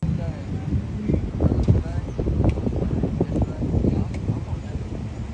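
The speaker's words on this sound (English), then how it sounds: "It's pretty windy out here." Steady wind buffeting the microphone outdoors, a low rumbling roar with gusty bursts, while a person talks over it.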